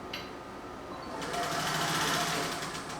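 A sewing machine stitches shoulder and side seams on a historical undergarment, starting briefly and then running in a steady, close mechanical whir for a couple of seconds.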